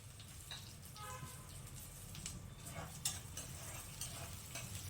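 Curry leaves fry in a pan for a village-style chicken fry, with a quiet, continuous sizzle and occasional soft stirring scrapes heard faintly from close up.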